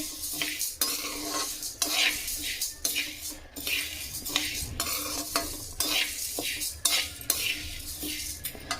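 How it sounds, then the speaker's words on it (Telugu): Lentils dry-roasting in an iron pan with constant stirring, a spatula scraping and clinking against the metal in a steady rhythm over a soft sizzle, close and fairly loud, with no talking. "ఇది మనకి ఐరన్ కాబట్టి తొందరగా వేగుతుందండి అసలు కలుపుతూనే ఉండాలన్నమాట"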